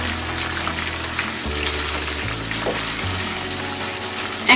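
Raisins frying in a pan for shahi polao, stirred around with a spoon: a loud, even, close sizzle with faint scraping throughout and a small clatter at the end, with no talking.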